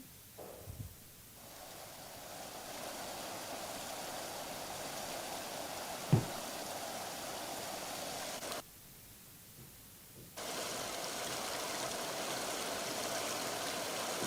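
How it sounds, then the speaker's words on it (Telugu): Water released downstream from the Nallavagu reservoir project rushes in a steady, broadband hiss, fairly distant and unbroken, dropping briefly in level partway through before resuming. "దాంతో కొంత నీటిని దిగువకు విడుదల చేశారు"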